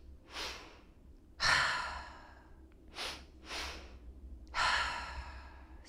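Strong exhales through the mouth during yoga breathing practice, several breathy whooshes spaced a few seconds apart, close and clear, with no talking over them.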